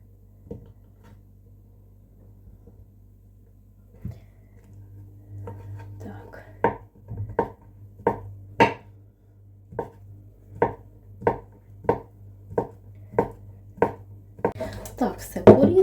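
Knife chopping cheese finely on a board for a celery salad, a few scattered taps first, then a fast, even run of about a dozen crisp, close cuts over a low hum.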